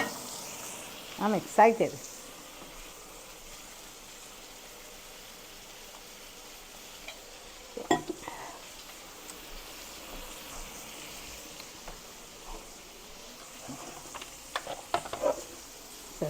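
Curry fish fries in a pan with a steady, soft sizzle and hiss that runs throughout, broken by a few louder crackles and stirring knocks. A person talks briefly over it.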